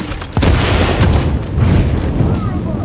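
Sniper rifle shots in the game The Division, a heavy boom followed by further blasts and rumbling gunfire over a loud, dense battle background.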